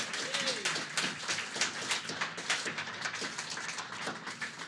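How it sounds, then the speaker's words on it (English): A live-show audience claps for guest Eddie Ford, steady dense applause filling the room from start to finish, with a voice briefly audible underneath. "So give Eddie a clap as well"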